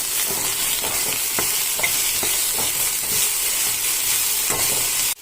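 Green peas with salt being stirred in a hot pan, loud close frying hiss with a rhythm of sharp spoon scrapes and clacks against the pan, ending abruptly, no voices.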